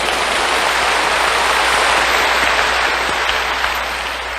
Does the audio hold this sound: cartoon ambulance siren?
no